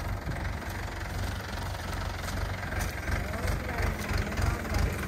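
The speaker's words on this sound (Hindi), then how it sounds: "ट्रैक्टर लेकर के आ गए हैं बाड़ी" A tractor idles near a rural garden plot, its engine giving a steady low chugging rumble with a rhythmic pulse that stays close and continuous throughout.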